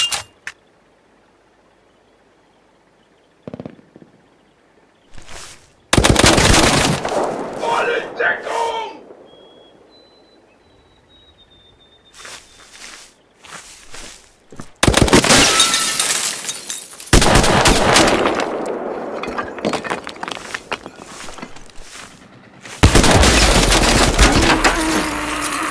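Rifle and machine gun fire from the Mud and Blood 0.4.3d war game, coming in loud, dense bursts with quiet gaps between them, over chaotic battle noise.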